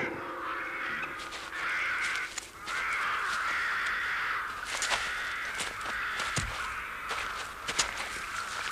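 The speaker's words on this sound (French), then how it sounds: "Nous avons fait s'envoler les corbeaux." Crows caw repeatedly as they take flight, several harsh calls in a row over a rustling outdoor background with footstep-like crunches, without speech.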